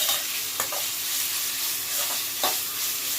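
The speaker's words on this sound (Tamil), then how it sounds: "அரை வேக்காடு வர வரைக்கும் கொஞ்சம் வதக்கிக்கலாம்." Bell peppers and onion sautéing in a pan, a steady close sizzle and crackle with occasional scrapes and stirs of the utensil against the pan, no voices.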